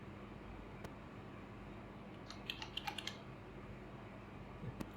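A computer keyboard is being typed on in a lab setting, heard as a short, faint cluster of soft clicks over steady background hiss, with a few isolated taps around it.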